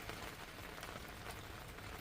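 Steady rain pattering on a surface, a constant even hiss with no pauses and no voices.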